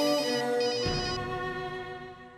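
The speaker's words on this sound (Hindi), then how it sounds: "हम सुरभि की बात कर रहे थे और सुरभि का ही फोन आ रहा है" Phone ringing indoors, a loud electronic ringtone with a sustained tonal melody that shifts partway through and slowly fades, with no voices.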